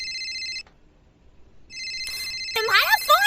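A mobile phone plays a warbling electronic ringtone in repeated bursts with a short pause between them, then keeps ringing as a voice speaks over it.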